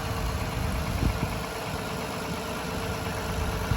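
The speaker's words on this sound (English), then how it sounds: "As you can probably hear, I do have the car running." A Toyota Kluger Grande's engine idles steadily with the bonnet open, a close, even mechanical hum with a faint rhythmic knock and no talking over it.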